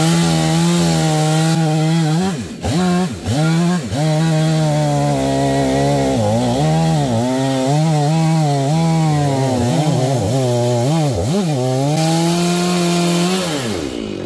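A chainsaw on an Alaskan mill cuts through a cedar log, loud and close, its engine droning steadily with brief revving dips as it bogs and recovers.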